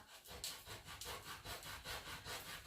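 Rhythmic scratchy strokes of sandpaper on wood, close and continuous, repeating at an even back-and-forth pace.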